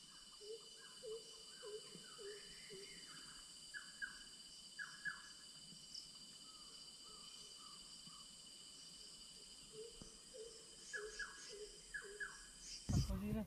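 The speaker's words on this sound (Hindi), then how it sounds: "डिफरेंट डिफरेंट चिड़िया लोग का आवाज़ आ रहा है।" Several different birds chirp and call in repeated short phrases against a steady insect drone in a Chhattisgarh forest, moderately distant, with no talking.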